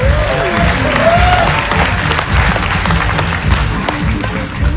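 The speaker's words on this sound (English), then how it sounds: "Everyone please give Dante a round of applause." Audience applause at a magic show aboard the Discovery Princess cruise ship, a steady dense wash of clapping throughout, close and loud, with a few faint voices mixed in.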